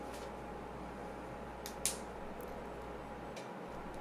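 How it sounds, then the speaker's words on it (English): SADES Osiris PC case fans running at normal speed with both side panels removed, giving a steady, close, even whir with a faint tick near the middle and no talking. "First, I'll turn on the computer so you can hear the normal fan sound"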